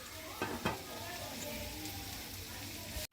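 Vegetables fry in a pan on a stove with a constant close sizzle and crackle, with a couple of brief clinks or stirs early and a sharp cut at the very end.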